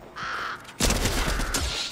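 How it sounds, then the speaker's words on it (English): A crow caws in the Fortnite video game, a short loud harsh call followed by a burst of rapid gunfire noise. "Oh, it's a bird."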